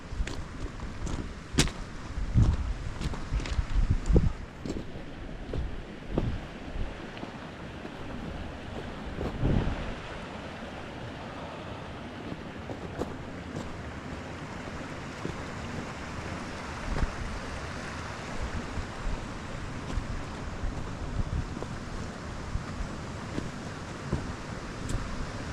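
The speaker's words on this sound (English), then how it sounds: "You can hear the fast moving water just here and all." Continuous rushing water, a steady fast-flowing current, with some buffeting wind noise in the opening seconds and no talking.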